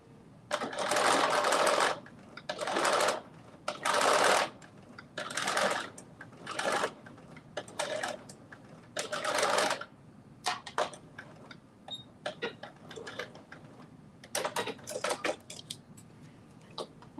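A sewing machine stitches two small facing pieces in bursts of fast, steady running, several separate runs with short pauses between, close and fairly loud with no talking.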